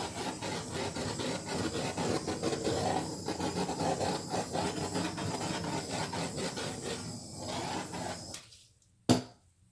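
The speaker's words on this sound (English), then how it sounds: "Let's rub it one more time." Steady, close rasping rub across a resin-coated painting surface, continuous for about eight seconds with a slight rhythmic back-and-forth texture, then fading out before a single sharp tap.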